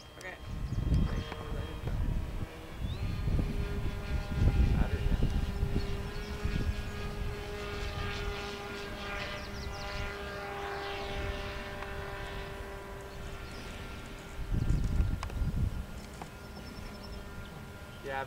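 A McGill Robotics drone makes a flyby, its propeller hum rising and falling across the pass. A voice talks intermittently over the steady motor whine.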